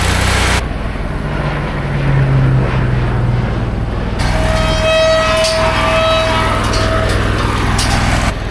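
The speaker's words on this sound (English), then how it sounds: "This plane is spraying the corn right next to us, probably fungicide, but he's turning right above us" A crop-dusting airplane spraying fungicide over a corn field drones loudly and steadily overhead, its engine tone shifting as it banks and turns close above, with a cut partway through.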